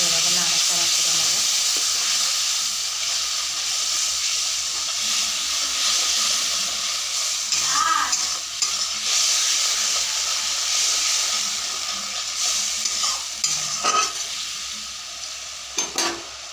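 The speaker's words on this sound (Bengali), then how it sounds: "এবারে এটাকে আমি দিয়ে দেবো, দিয়ে ভালোভাবে নাড়াচাড়া করে নেব।" Food frying in a pan and being stirred with a spoon, a steady loud sizzle with scraping strokes, a few louder clatters near the end, no talking.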